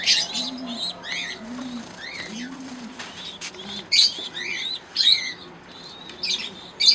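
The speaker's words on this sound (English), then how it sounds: "Little aviary. All pigeons" Pigeons coo softly in a home aviary with low, repeated burbling calls, while other small birds chirp and tweet brightly over them, along with brief bursts of wing flutter.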